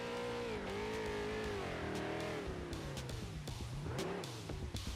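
A street stock race car engine in a racing game revs hard and repeatedly while spinning donuts at South Boston Speedway. The pitch swoops up and down in steady waves, loud and close, with no one talking.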